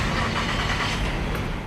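A car engine turns over and catches, a brief, close, continuous mechanical roar lasting under two seconds with no talking.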